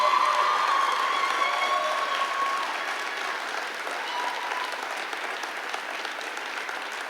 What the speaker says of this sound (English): how about a little round of applause for Holland Slade?